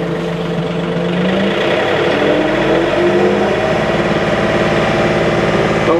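A John Deere snowblower engine with a hydraulic chute runs steadily and loud, holding a dense mid-pitched drone throughout with a slight rise as it is brought up from idle, with no pause.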